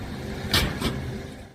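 A road buckles with a sharp snap, followed moments later by a car crashing over it; two brief broadband bursts, the second softer, over a steady low rumble.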